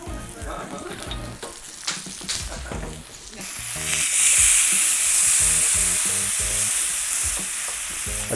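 Steak fries in a hot pan with a steady, close sizzle that swells louder partway through, along with some clattering handling sounds and no talk.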